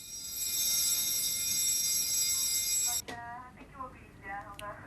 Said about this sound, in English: Unknown to the men, they triggered an alarm.